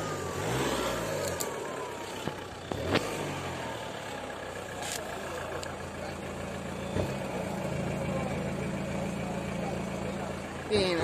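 A turbocharged TDI car engine at a tuning show, revving up and down in rising and falling sweeps with some idling, close and fairly steady, while people talk nearby.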